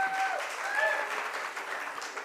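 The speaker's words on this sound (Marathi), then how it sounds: "पुन्हा एकदा आपण टाळ्या वाजवूया प्राजक्तासाठी." An audience applauds at a Marathi film trailer launch event, a continuous crowd of clapping hands heard close and fairly full for the whole span, with a few brief whistle-like tones rising above the clapping early on.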